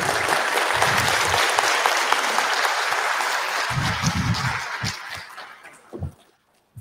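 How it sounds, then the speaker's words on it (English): A keynote audience at a programming conference gives a round of sustained, dense applause that fills the room for about five seconds, then thins into a few scattered claps and falls quiet. "there was just a round of very nice applause here"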